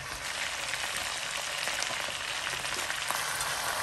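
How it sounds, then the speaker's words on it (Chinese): Fried crayfish are stir-fried in a wok, a steady, close sizzle of hot oil with faint scraping and tossing layered through, with no talk. "然后继续翻炒。"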